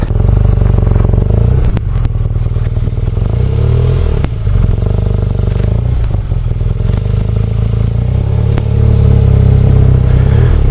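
A BMW R nineT Cafe Racer motorcycle is ridden at close range, its engine droning loudly with shifting pitch, wind buffeting and occasional clatter throughout.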